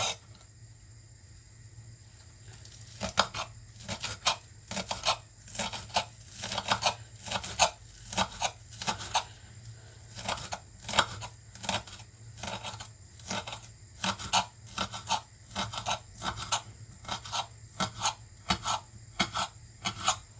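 A knife scrapes repeatedly across a chopping board while chopping pork belly, in quick rasping strokes, steady and rhythmic for a long stretch, with a low hum underneath.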